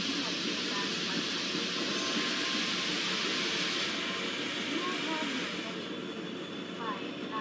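A GOC WDP4D diesel locomotive hauling the Udaipur Super Fast Express on the Mewar route in the MSTS train simulator comes to a stop, its steady engine rumble and hiss easing and quietening toward the end.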